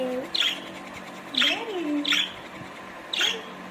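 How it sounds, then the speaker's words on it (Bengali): A recorded parrot call is played back as a few sharp, rising squawks and whistles spaced about a second apart, fairly close, with quiet room noise between them. "টিয়া পাখির ডাক চালিয়েছিল"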